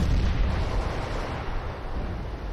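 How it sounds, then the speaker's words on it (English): A CS:GO flashbang grenade detonates in a loud, close, dense blast that stays broad and roaring for its whole short span without easing off. "Throwing flashbang."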